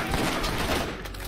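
Rapid, loud gunfire from a weapon in the Borderlands video game, a dense barrage of shots blending into a continuous burst.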